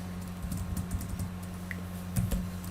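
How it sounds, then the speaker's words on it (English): Typing on a computer keyboard while building a Microsoft Access report, soft irregular key clicks in quick bursts over a steady low hum, fairly close and moderately quiet, with no voice. "I'm going to type"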